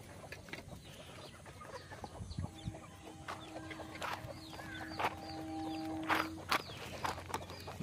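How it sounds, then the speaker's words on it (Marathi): Free-range desi hens cluck on a small poultry farm with a compost heap. Scattered soft clucks and short calls come intermittently at moderate distance over quiet outdoor ambience. "हे प्युअर गावठी कोंबडी बघा, क्वालिटी बघा कोंबडीची।"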